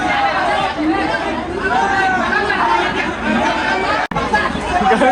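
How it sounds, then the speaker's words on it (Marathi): Dense crowd chatter at Mumbai's Ganeshotsav, a loud continuous babble of many overlapping voices close all around, with one brief dropout. "गर्दी गर्दी गर्दी नुसती गर्दी."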